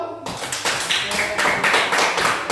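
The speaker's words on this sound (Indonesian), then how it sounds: "Tepuk tangan dulu." A classroom of fifth-grade students clapping together in a short burst of steady applause, with voices mixed in.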